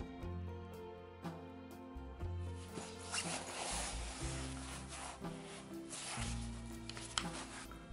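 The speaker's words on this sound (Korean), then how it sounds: "아래쪽에도 지퍼가 달려 있는데요." Zipper pulled along a Mobidi herringbone 15-inch laptop pouch: a sustained scratchy rasp through the middle of the clip, set over steady background music.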